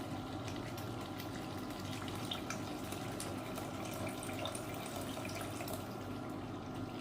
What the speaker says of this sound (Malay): jika kuah ini agak terlalu pekat, kita boleh tambahkan sedikit air